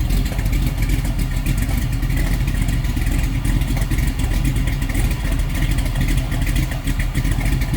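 A 1985 Chevrolet Camaro engine runs steadily and loud, heard from the rear of the car, a continuous low rumble with some clattery texture, no voices.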